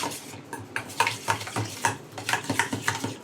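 A spoon beats yogurt with turmeric and spices in a bowl, giving quick uneven scraping and clinking strokes against the bowl in a close, fairly quiet series with no talk.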